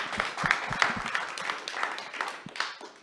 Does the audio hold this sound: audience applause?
yes